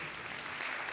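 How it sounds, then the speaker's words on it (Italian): An audience claps at an Italian sports awards evening, a dense, even burst of applause lasting about a second. "un applauso"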